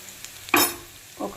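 Keema for gongura biriyani frying in a pan, a brief burst of sizzling as the meat is stirred, then quieter crackle and a second short stir near the end.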